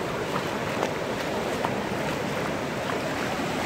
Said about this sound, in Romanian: Foarte frumos oceanul,